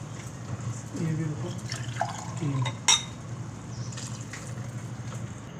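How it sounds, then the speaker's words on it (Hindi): Water poured from glasses onto fried potatoes in a cooking pan for a potato and egg curry gives a close, steady liquid pour and splash with faint drips, a sharp clink near the middle, and a low voice-like hum underneath. "इसमें मैं पानी डाल दूँगी 2 गिलास"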